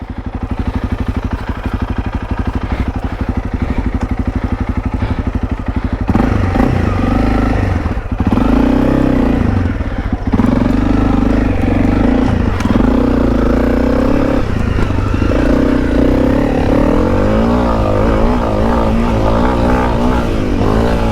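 A road-registrable enduro motorcycle rides and revs hard on a track, its engine loud and continuous, rising and falling in pitch with gear changes and throttle blips.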